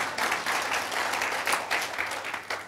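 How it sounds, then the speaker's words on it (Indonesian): Congregation applause in a church service, a steady mid-level patter of many hands clapping with a slight swell, no voices over it. "Tepuk tangan boleh, tepuk tangan."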